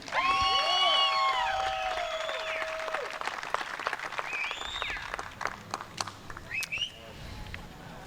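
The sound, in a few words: crowd applauding an archer at the shootdown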